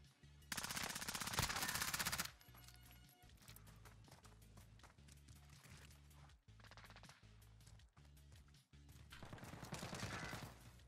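Rapid automatic gunfire from a Search and Destroy video game match, a loud sustained burst of machine-gun fire followed by repeated bursts of shooting over a steady game soundtrack.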